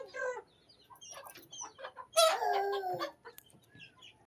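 Chickens cluck and squawk in bursts, with one loud, drawn-out squawk in the middle and quieter clucks around it.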